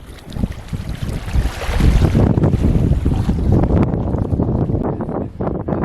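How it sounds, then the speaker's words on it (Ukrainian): Strong wind buffets the microphone in a continuous roar while lake waves splash and slap nearby during fishing, loud and unbroken throughout. "вітряно, хвиля."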